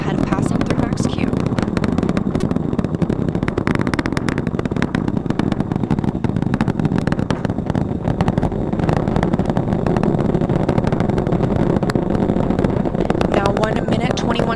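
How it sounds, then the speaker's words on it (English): A steady, loud, low rumbling roar of the Artemis 1 rocket's four core stage engines, throttled down before max Q, fills the whole stretch without pause, a dense broadband thunder holding constant throughout. "The 4 core stage engines throttling down ahead of passing through max Q."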